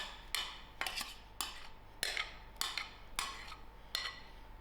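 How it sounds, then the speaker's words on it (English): Mashed banana is worked into a butter mixture for a banana loaf: a steady series of about eight soft, rhythmic scraping strokes of a utensil against a bowl, close and faint. "Now I'm going to mix my mashed banana into my butter mixture"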